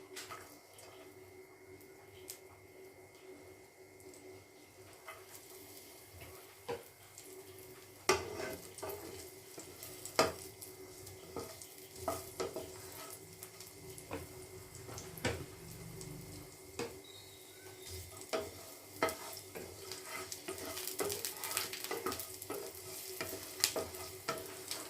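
Six or seven cloves of sliced garlic sizzle quietly in melted butter, with frequent stirring clicks and scrapes against the pan getting busier over time.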